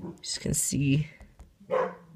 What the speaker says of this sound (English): Sorry if you guys can hear that dog barking in the background